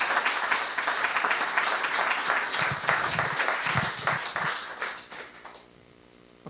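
Audience applause after a talk at a livestreamed pioneers event in Ljubljana, steady dense clapping that thins and dies away near the end, with little speech.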